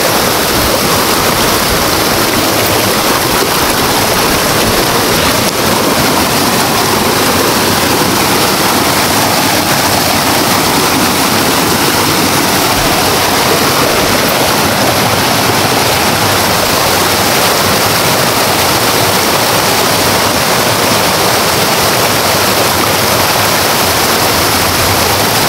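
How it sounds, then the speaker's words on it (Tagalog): Tabibinta Falls roars as a loud, steady rush of falling water, a constant wash of noise that never lets up. "Sobrang ginaw ng tubig tol kasi galing to sa Tabibinta Falls."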